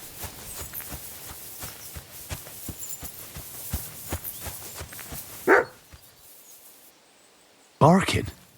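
A dog barks in Kingdom Come: Deliverance II, with a bright burst around the middle and a louder bark near the end, both standing out over steady footsteps and clip-clopping hooves in a medieval game scene.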